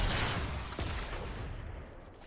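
Sniper gunfire in an online shooter video game: a loud sharp crack opens the moment, followed by a second fainter distant shot and scattered softer game noises.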